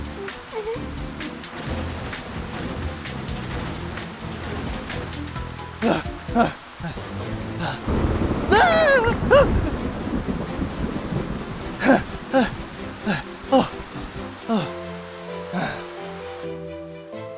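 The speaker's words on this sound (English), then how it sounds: "Oh, such heavy rain." Heavy rain in an animated dinosaur cartoon falls as a steady wash under short murmured voices and bursts of music, with a louder rumbling surge partway through.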